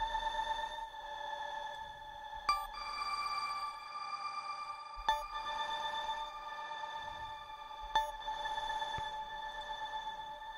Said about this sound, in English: this is a modulation on the decay. You can hear it pitching up and down